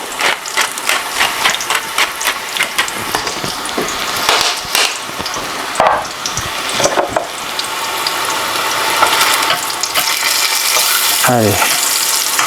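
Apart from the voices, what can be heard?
aubergine slices frying in a pan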